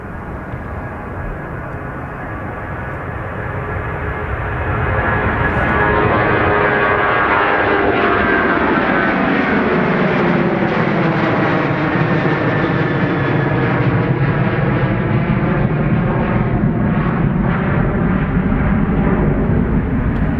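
A Ryanair jet departing Dublin Airport roars loudly and steadily, its engine noise building over the first few seconds and then holding as a broad, sustained rumble with a slowly sweeping whine.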